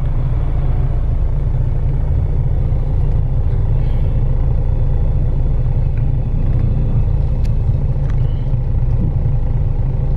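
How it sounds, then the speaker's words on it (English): Heavy, stalled street traffic in Iran produces a loud, steady low rumble of idling car and truck engines close by, continuous and unbroken with no voices. "The traffic is really bad again"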